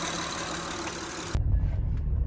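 A car engine idles during an EGR and PCV lab check with no blow-by, a steady hum that cuts to a lower, rougher rumble partway through.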